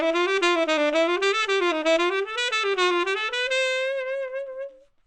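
A single melodic instrument plays a jazz approach-note exercise, stepping up the scale with chromatic passing tones in a quick, even run of connected notes before a final held note fades out; close and clear, with no talking.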